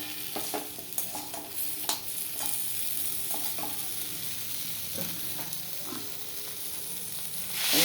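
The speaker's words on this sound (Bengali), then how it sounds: "নুন দিয়ে ভাজা ভাজা হচ্ছে। তারপরে এই যে গাঠি কচুটা দিয়ে দিয়েছি।" Gathi kochu taro frying in a pan with salt, a steady close sizzle with regular spoon scrapes and taps as it is stirred, no one speaking.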